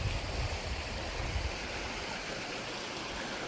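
Creek water runs steadily over rocks along a Georgia creek-front property, a continuous broadband rush that stays close and even throughout, with no voices.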